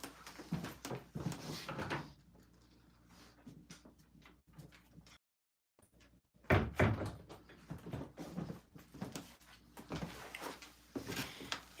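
Door at home as someone arrives at night, a series of handling knocks and thuds, with one louder bang after a brief silent gap, followed by more rattling movement nearby.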